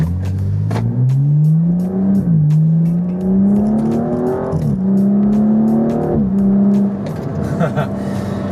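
BMW M235i with a Fabspeed Motorsport muffler bypass axle-back exhaust revving close up, loud rising pulls that climb in pitch, drop back between shifts and repeat several times, with brief talking underneath.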